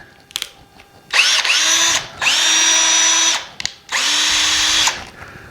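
A Bauer 20-volt cordless drill in drill mode whirs in three bursts, a short one and two longer sustained runs, each spinning up and winding down, with brief clicks between and no talking.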